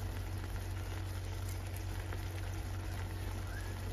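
Mushrooms and bacon sizzling in a rice mixture for arroz tapado, a steady soft crackle and hiss with a low hum beneath, even and unbroken throughout.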